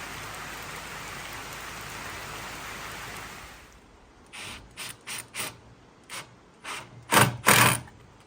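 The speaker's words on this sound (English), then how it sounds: "Yay for the rain!" Steady rain hisses loudly at a Portuguese off-grid homestead, then fades out and gives way to a series of brief close knocks and rattles.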